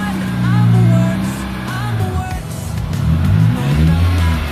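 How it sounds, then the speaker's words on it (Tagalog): A car engine runs on a vehicle that stalls when its air conditioning is switched on. It gives a loud, close, low drone that swells and eases in pitch and volume, with no talk over it. "tunog ng makina, amoy ng gasolina"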